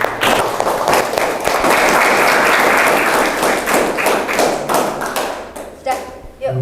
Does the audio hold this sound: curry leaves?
no